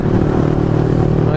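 Motorcycles ride up close with a loud, continuous engine rumble and clatter.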